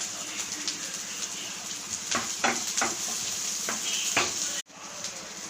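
Sliced shallots and garlic fry in a pan for a soya chunks gravy, giving a steady close sizzle with several spatula scrapes and clinks before a sudden brief cut-off.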